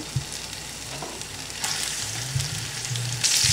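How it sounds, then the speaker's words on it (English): Hot oil sizzles and crackles steadily in a pan of pork chops, with occasional pops and light clanks of utensils nearby. "When it's nice and hot, you'll hear that sizzling sound."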